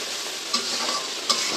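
Chopped tomatoes sizzle loudly in a hot pan for vegetarian noodles, a continuous close frying hiss with a couple of brief stirring scrapes and no talking.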